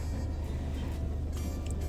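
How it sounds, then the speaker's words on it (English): A car engine hums low and steady while driving on a Los Angeles road, a continuous loud drone heard from inside the cabin with no talking. "My car is kind of loud."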